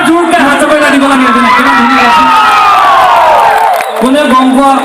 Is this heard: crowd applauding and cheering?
yes